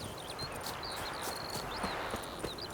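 Horse hooves clopping in a steady rhythm under ambient background in The Witcher 3, moderately close, with faint bird-like chirps overhead.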